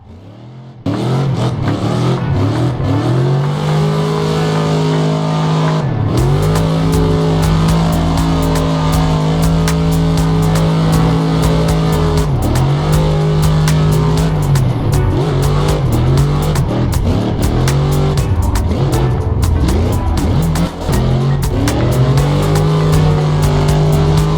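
A BMW E92 M3 driven hard on mountain roads, its engine droning loudly and steadily with repeated rev rises and drops as it shifts, close and dominant throughout.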